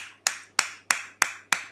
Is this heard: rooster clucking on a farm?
no